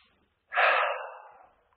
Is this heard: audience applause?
no